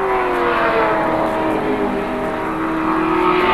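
Touring race car engines roar steadily along the straight at Surfers Paradise in 1986, a loud sustained drone with slowly shifting pitch as the cars pass.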